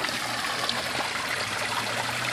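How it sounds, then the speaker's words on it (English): Water rushing out of a lake pump, a continuous, dense splashing roar that stays close and steady throughout with no voices. "That water is actually rushing now."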